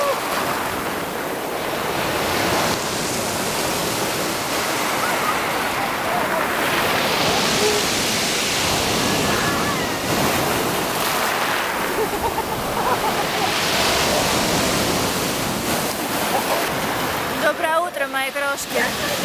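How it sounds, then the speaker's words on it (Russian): Sea waves surge and crash on a beach, loud and continuous with rising swells, blended with wind buffeting the microphone; a brief bit of handling noise comes near the end. "На море, как я говорила, бушуют волны"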